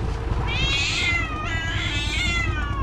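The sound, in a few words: cat meowing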